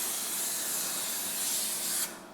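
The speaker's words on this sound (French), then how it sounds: "on va utiliser une bombe à graisse" A grease spray can coats a plastic tub for sandwich bread dough, one close continuous aerosol hiss lasting about two seconds before cutting off abruptly.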